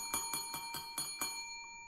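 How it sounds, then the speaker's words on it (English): Small bell ringing, a tinkling burst of about six quick strikes in an even rhythm with bright sustained overtones, then a short fading ring-out, clear and alone. "you'll know it's time to roll your eyes when you hear the Tinkerbell ring her bell like this"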